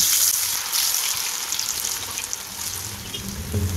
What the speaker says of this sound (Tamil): மீடியம் ஃப்ளேமில் வச்சு நல்லா மொறுமொறுப்பாக பொரிச்சு எடுத்துக்கலாம்